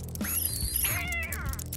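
A kitten meows in a short, clear series of rising and falling cries, close and loud with no talking.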